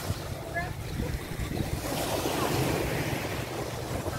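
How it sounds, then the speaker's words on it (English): Ocean waves washing onto the shore at Catmon in the Philippines on a quiet morning, a soft steady surf hiss with light wind, fairly faint and distant, with a brief voice early on. "See the waves."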